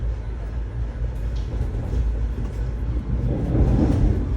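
Steady low rumble of a train rolling along the rails, with a continuous rattling drone that swells slightly toward the end.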